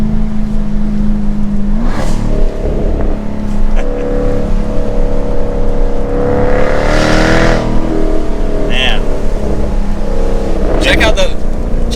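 A 2022 Jaguar F-Type R AWD convertible sports car with a V8 engine drives along, its loud, close engine note rising and shifting through gear changes and revs for the whole stretch.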